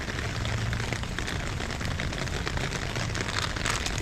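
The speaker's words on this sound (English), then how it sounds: "it's been raining all day" Rain falls steadily outdoors on a wet day of weeding, a dense, even hiss of drops on surfaces filling the whole stretch without pauses or voices.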